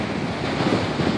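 Ocean waves and wind along the coast just after a storm has moved off, a constant broad roar with gusting wind noise and no voices.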